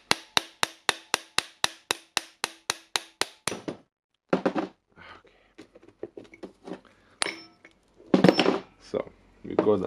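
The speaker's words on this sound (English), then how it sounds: "now we can just hammer the anvil." Anvil of a Makita impact wrench being hammered out of its housing during a wobble repair, a fast run of about fourteen sharp metallic strikes, then scattered knocks and handling noises with talk close by.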